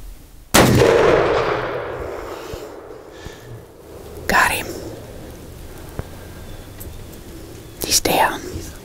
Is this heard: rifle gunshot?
yes